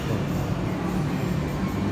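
A BTS Skytrain train at On Nut station in Bangkok gives off a steady, low rumble of wheels and motors that hums continuously at moderate loudness, with no clear speech.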